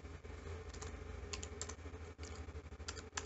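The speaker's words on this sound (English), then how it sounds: "type in the IP address of your PS2" Typing on a computer keyboard, quiet and close, with irregular clusters of light clicking keystrokes and brief pauses between bursts.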